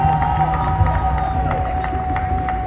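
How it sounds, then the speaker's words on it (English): An outdoor crowd at a Congolese flag-raising in New York City cheers and claps in a dense, steady roar, heard close and loud throughout. "Please give yourselves a round of applause for being here today."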